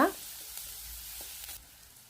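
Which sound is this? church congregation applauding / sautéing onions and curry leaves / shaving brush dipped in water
sautéing onions and curry leaves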